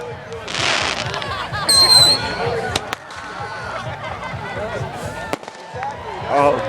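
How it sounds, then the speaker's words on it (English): Fireworks at a public people's celebration pop and crackle with sharp bangs and scattered bursts over a murmuring crowd, while people talk nearby. "The people's fireworks."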